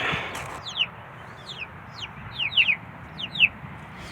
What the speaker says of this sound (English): I got to go check these chickens. I don't know why they're flipping out.